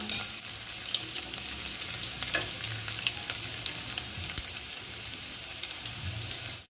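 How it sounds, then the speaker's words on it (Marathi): One or two garlic cloves dropped into a mustard seed tempering for a Malvani lady finger curry, giving a steady, soft sizzle with scattered pops and crackles, close but fairly quiet, with no talking. "मोहरी तडतडली, थोडी 1-2 पाकळ्या लसूण घालून घेऊ फोडणीला"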